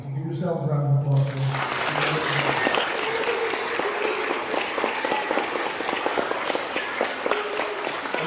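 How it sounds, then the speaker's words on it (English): A crowd gives a dense round of applause for graduating students at a fifth-grade DARE graduation. The clapping rises after a brief spoken line at the start and carries on loudly and evenly to the end. "So give yourselves a round of applause."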